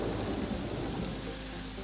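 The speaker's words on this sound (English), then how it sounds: "Huge thunderstorms" Heavy rain pours with rumbling thunder during a tropical doldrums storm at sea, a loud, continuous wash of rain over deep rolling thunder with no voices.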